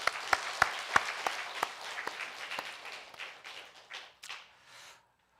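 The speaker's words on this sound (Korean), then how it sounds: "우리 성가대를 위해서도 좀 기도해 주시고 더 열심히 잘하도록 오늘 박수를 한번 격려하겠습니다" A church congregation applauds the choir during a Sunday worship service, a burst of scattered claps that starts sharp and loud and then thins out and fades to silence after about five seconds.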